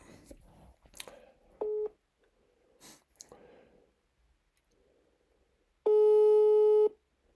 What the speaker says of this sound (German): So, Mahmutchen hat angerufen, ich rufe zurück.